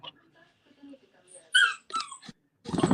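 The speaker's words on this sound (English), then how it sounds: "my dog crying" A dog whimpers and cries in short, soft yips and whines, close by, with a few faint breathy sounds between them.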